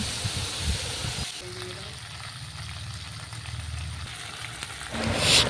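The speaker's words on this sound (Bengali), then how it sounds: "বেটে রাখা সর্ষেটুকু আমি এবার কড়াইতে ঢেলে দিলাম।" Ground mustard paste poured into a hot wok where fried pointed gourd was cooked sets off a soft, even sizzle and hiss that holds steady, then swells slightly at the end.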